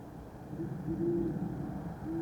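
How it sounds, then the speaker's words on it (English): A distant barred owl hoots in a few low, drawn-out notes against a quiet, rumbling outdoor background. "a barred owl just called back there as well."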